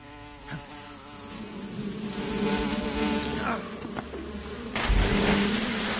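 Insects buzzing in Metal Gear Solid 3 on PS5, a loud droning hum rising and wavering over several seconds with game ambience and a soft engine-like rumble beneath, no speech.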